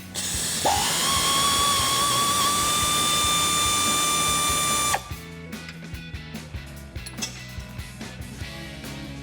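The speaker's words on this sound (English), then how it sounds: "you can get both of them with the air ratchet" An air ratchet whines loudly for about four seconds while backing suspension bracket bolts out of a Dodge Challenger, then stops, leaving a string of sharp metallic clicks and clanks as the parts are handled.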